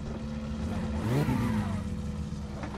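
Car engine in the driving game My Summer Car, a steady low drone with a brief rising and falling swell near the middle, like a surge or passing car, heard alone without talk.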